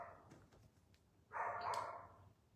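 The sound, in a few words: dog barking at lawn crews mowing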